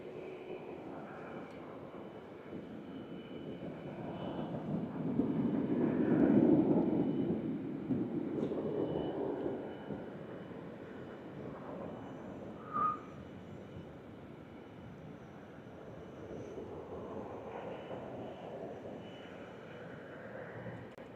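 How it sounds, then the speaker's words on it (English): A WestJet airliner heading to Toronto passes overhead, its jet engines a soft rushing roar that swells in the middle and slowly fades, heard from a distance and fairly faint. "WestJet heading back to Toronto and the swoop."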